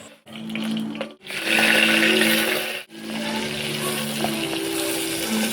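An electric kitchen blender grinding coconut, poppy seeds and cashews into a paste runs in loud whirring bursts, stopping briefly twice between pulses, close by with no talk.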